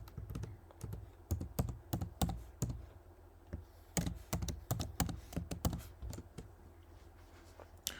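Rapid keystrokes on a computer keyboard while setting up a cloud server, clicking in irregular bursts with brief pauses, close and fairly quiet, with no speech.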